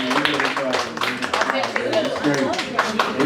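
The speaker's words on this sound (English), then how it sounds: "Guys, clap it up for love." Audience clapping at a stand-up comedy show, scattered claps and light applause in a club room, mixed with voices and a bit of laughter rather than a full ovation.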